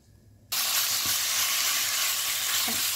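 Seasoned Korean spicy pork stir-fry with perilla oil hits a hot pan after a quiet start, then sizzles loudly and steadily up close without pause.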